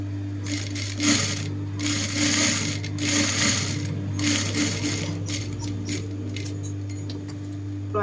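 Sewing machine stitching polka dot cotton fabric for a big-size blouse, a steady motor hum with needle chatter running throughout, close and continuous with no talk.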